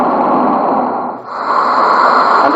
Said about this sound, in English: Sound of the desert,